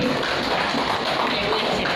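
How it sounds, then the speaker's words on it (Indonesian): A classroom of students claps for the active group during a mathematics lesson on number patterns, a steady dense patter of many hands filling the room without pause. "tepuk tangan untuk kelompok yang aktif"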